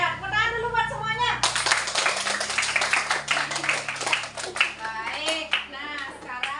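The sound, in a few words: schoolchildren clapping hands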